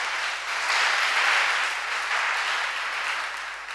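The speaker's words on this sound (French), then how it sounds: "je voudrais qu'on acclame très fortement" An audience at a Lenten church conference applauds Father Norbert Éric Abécan, with dense, sustained clapping that swells a little and then holds steady.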